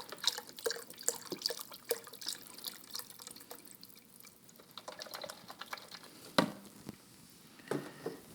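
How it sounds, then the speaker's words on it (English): Unsalted stock poured into a pot of Quebec pea soup, heard as light splashing and dripping liquid with scattered clinks and a louder splash near the end, close by and fairly quiet. "I'm using an unsalted stock, because again, you can add salt to your taste."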